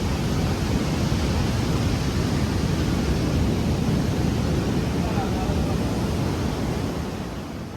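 Sea waves and wind roar continuously at Revupolavaram beach near Visakhapatnam, close to the rocky selfie point out into the sea, a loud steady wash of surf with wind buffeting the microphone throughout.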